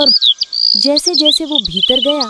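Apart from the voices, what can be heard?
birds chirping in a dense forest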